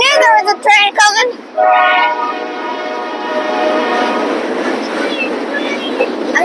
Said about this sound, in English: I knew there was a train coming.